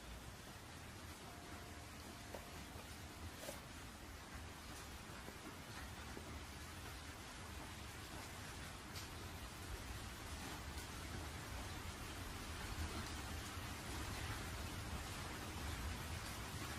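Steady rain hisses evenly throughout in a dubbed anime scene, a dense wash of noise with no clear thunder.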